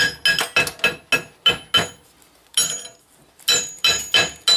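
A hammer knocks slag chips off freshly cut steel forklift brackets, making about a dozen sharp, ringing metallic clanks in quick irregular bursts with short pauses between. The strikes are loud and close.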